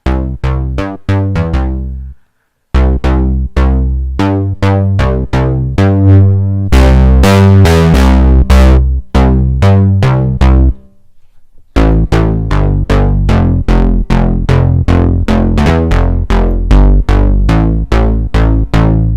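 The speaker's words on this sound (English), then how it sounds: "let's add distortion" A heavily distorted synth bass made in Serum plays a steady, driving pattern of repeated notes, loud and gritty, with a brief drop-out partway through.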